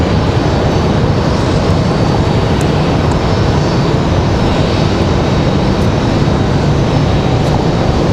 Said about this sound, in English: So there's the United I was talking about, pushing back